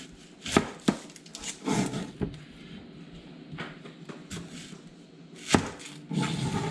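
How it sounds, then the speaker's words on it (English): A knife chopping both ends off an onion on a cutting board, a few sharp, close thuds spaced irregularly with quieter handling sounds between them. "We cut both ends off first."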